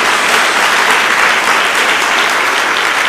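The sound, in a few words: congregation applause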